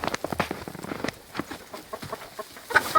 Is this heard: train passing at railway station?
no